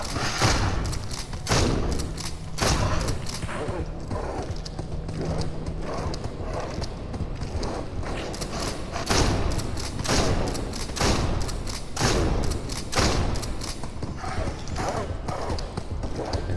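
Repeated shotgun blasts in the Species Unknown video game, fired in steady bursts of loud, thumping booms with a few quieter gaps. Game effects and faint speech sit in between.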